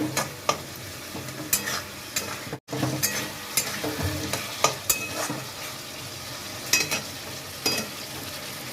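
Chhana curry made with flour-based bara dumplings is stirred and fried in a pan, a steady close sizzle broken by repeated scraping strokes of a spoon throughout, with no voices.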